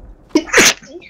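A single close, sharp sneeze with a quick breathy intake before the explosive burst, heard during an online Trouble in Terrorist Town game session.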